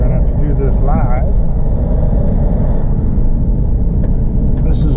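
An old Hyundai Santa Fe drives on a highway, its engine and road noise a loud, constant drone beneath someone talking.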